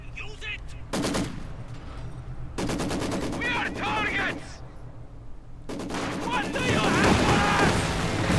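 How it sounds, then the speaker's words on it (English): Sturmovik ground-attack aircraft strafing in the World War II strategy game Company of Heroes 2, with several bursts of rapid machine-gun fire and cannon rattling between quieter gaps, building to a dense, loud barrage at the end. "There you go, strafing run going in."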